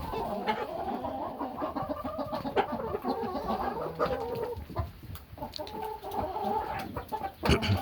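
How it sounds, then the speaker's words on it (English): A bunch of hens, some of them silky mixes, cluck and squabble in a coop, with overlapping agitated calls and sudden sharp squawks and scuffles at moderate distance. "hens fight, and see, the hens are more aggressive than the friggin' roosters are"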